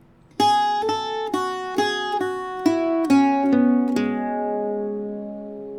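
An Irish bouzouki plays part of the tune Winter Is Cancelled, about eight clear plucked notes in groups of three, each ringing out, with the last note left to sustain and fade, no voices.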